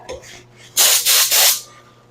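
Paint spray gun firing on a Honda CT70 motorcycle: three close, loud hissing bursts, each about a quarter to half second long, preceded by faint handling noises and a soft breath.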